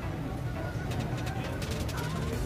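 Racing pigeons circling overhead during a race in Camarines Sur, with soft bird calls and wing sounds over steady outdoor background noise and faint distant voices.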